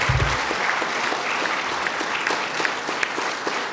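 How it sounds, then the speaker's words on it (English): An audience at a law enforcement panel event breaks into sustained applause for the panelists, a dense, steady wash of clapping hands filling the room from start to finish. "How about a final applause for our panelists?"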